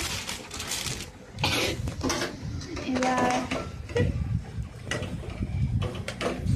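Stirring noodles in a cooking pot with a utensil, producing repeated clinks and scrapes of metal against the pot over a steady background, with speech in between.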